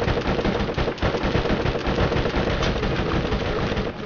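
Rapid machine gun fire in the video game Borderlands, dense sustained bursts of gunshots rattling on for several seconds, loud and close with no speech over it.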